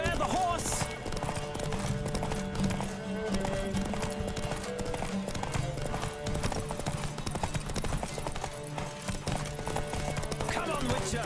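A horse gallops in a Witcher 3 race, its quick clip-clop hoofbeats pounding continuously beneath a music score, with a rider's voice breaking in now and then.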